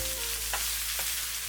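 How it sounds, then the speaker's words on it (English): Mushrooms, bamboo shoots and noodle ingredients stir-frying in a wok for Chinese chow mein, with a steady low sizzle and two soft scraping stirs. "Occasionally stir for 2 minutes."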